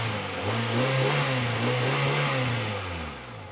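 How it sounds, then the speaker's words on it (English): A car engine running close by, its pitch rising and falling in a few short revs over a steady rumble. "when I start this engine, as I'm about to do in a minute"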